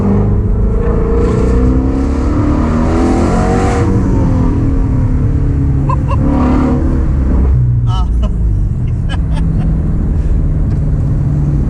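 A Ford Mustang Shelby GT350R engine revs and roars loudly and continuously, rising and falling in pitch, up close.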